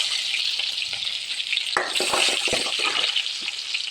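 Shallots sizzle and crackle loudly in hot oil with mustard seeds, a dense steady hiss punctuated by sharper pops and bursts as they hit the pan, with no voices.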